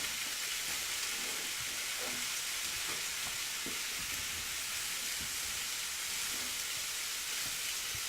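Meat searing in a pan, a steady loud sizzle and crackle that runs unbroken throughout, with faint pops and clinks underneath.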